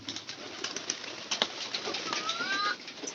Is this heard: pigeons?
yes